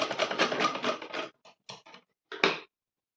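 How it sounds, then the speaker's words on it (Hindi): A domestic sewing machine runs in a rapid mechanical burst for over a second, then gives a few short separate stitch runs, double-stitching a seam on a dhoti salwar. The sound is close and clear, with no talking. "मेरी थोड़ी सी सिलाई रह गई थी तो मैं उसको डबल सिलाई कर रही हूँ वापस।"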